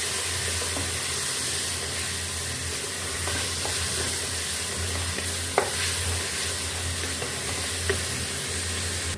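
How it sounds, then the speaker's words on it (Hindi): Chopped tomatoes being stirred into a masala frying in a pan, a steady hissing sizzle with occasional clinks and scrapes of the spoon, no one speaking. "और इसको हमने अच्छे से मिक्स कर लेंगे।"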